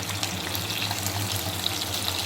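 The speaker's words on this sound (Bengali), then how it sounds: "এখন মাছগুলোকে একটু ভেজে নিচ্ছি।" Pieces of rohu fish fry in hot oil in a wok for a thin fish curry, giving a steady, close, dense sizzle that holds evenly throughout with no voices.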